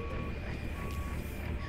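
A truck in American Truck Simulator beeps steadily as it backs into a dock door at night: a repeating high reversing tone over a low engine rumble.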